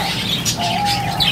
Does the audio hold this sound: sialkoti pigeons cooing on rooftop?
yes